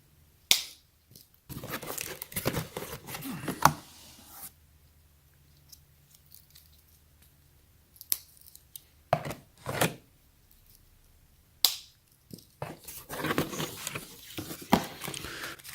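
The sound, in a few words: cutting open Crock-Pot box packaging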